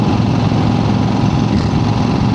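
A 1975 Harley Davidson XLCH motorcycle engine running, a loud, close, continuous low rumbling drone with even, dense pulsing throughout and no voices.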